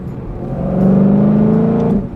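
A Shelby GT500 engine and exhaust in quiet mode revs up, a smooth rising drone that swells, holds for about a second, then drops away, close and loud with no talk.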